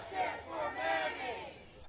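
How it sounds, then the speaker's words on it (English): Protesters in Tacoma, Washington, demanding justice after officers were acquitted in a man's death, chant in unison as a massed crowd of voices, steady and moderately loud, heard briefly. "Crowds gathered in Tacoma, Washington last night demanding justice"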